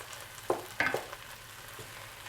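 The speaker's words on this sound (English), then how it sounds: "The onions have sauteed for 3 minutes" Onions sautéing on medium-low heat in a pan for tomato rice, a steady soft sizzle with occasional sharper crackles and pops, heard alone.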